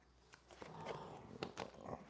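A dog makes low whining and grumbling growls nearby in a kitchen, irregular soft vocal bursts with no talking over them.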